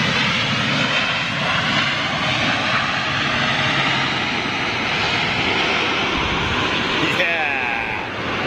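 An Air France Boeing 777 jet roars loudly and continuously close by, its engine noise dominating throughout, with voices talking underneath.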